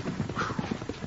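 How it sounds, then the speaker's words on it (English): Horse hooves clip-clopping in an old-time radio Western drama, a quick uneven run of muffled hoofbeats over a short burst, mid-distance and moderately loud. "All right, Muley, let's get to the horses and ride"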